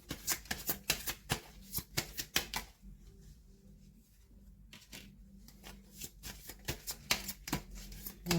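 Heal Yourself oracle cards by Inna Segal riffled and shuffled in repeated crisp bursts, with a brief quieter pause in the middle before the rapid flicking resumes, close and moderately soft.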